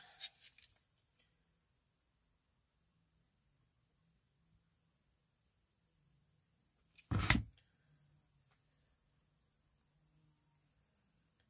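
Scissors cut paper for a lemon craft: a short snip at the start, then one louder, quick cutting stroke partway through, with near silence between and a faint tap at the end.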